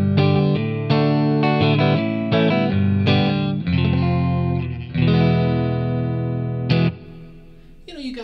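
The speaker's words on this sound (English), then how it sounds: "just with a very subtle kind of reverb setting, I've got it kind of low, but you can get that just nice kind of warm tone" Electric guitar played through a budget pedal board with a low, subtle reverb setting, giving a warm tone; steady chords and picked notes ring out loud and sustained, with a brief pause near the end.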